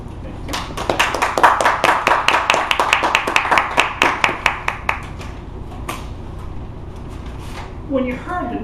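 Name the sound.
audience applause welcoming speaker Tim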